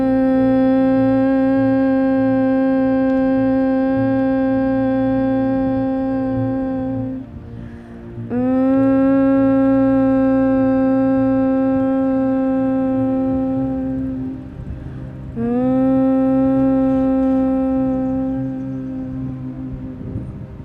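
A group of people in a yoga class hums a sustained M tone imitating a bee, three long drawn-out steady hums separated by brief breaths, loud and close.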